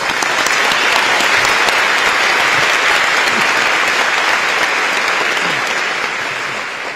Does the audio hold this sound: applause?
yes